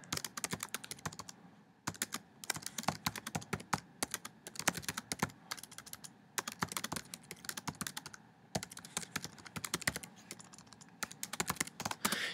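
Fast, continuous typing on a computer keyboard, dense clicking keystrokes in quick bursts with brief pauses, close and alone with no voices.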